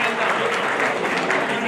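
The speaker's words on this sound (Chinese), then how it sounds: "来，我们鼓掌欢迎我们的学长" Steady applause from an audience at a military academy alumni association meeting, with a dense clapping wash that continues evenly and a voice speaking over it.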